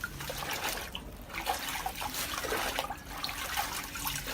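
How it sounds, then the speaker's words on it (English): Leaves for snail feed are washed and rinsed in water, with continuous sloshing and trickling close by. Splashes come in uneven surges as the leaves are moved through the water. "what I'm doing here now is we wash and then we rinse."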